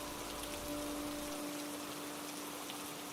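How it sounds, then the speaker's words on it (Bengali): Steady rain falls in a cartoon rural village by a sal forest near dusk, a dense even hiss with no voices. "আজ মঙ্গলবার, সারাদিন ধরেই বৃষ্টি পড়ছে"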